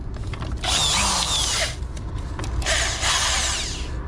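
A cheap corded drill powered through an inverter in a campervan being fitted out whirs in two bursts, high and harsh, with a pause between them, close to the listener.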